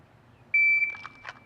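Shot timer at a shooting range, one sharp electronic beep lasting about a third of a second, loud and clear, followed by brief faint noise.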